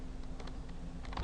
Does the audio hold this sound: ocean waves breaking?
no